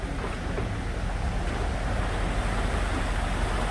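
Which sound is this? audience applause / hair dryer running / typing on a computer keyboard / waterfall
waterfall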